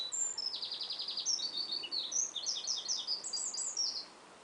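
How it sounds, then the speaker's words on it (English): Evening chorus of songbirds at sunset by a backwater, a continuous stream of bright, rapid trills and chirps, moderately near and clear over a soft outdoor hiss, no talking. "listening to the bird song, the evening chorus if you want to call it that"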